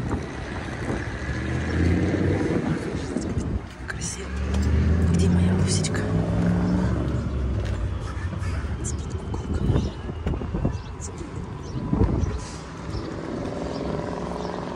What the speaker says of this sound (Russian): Я в машине.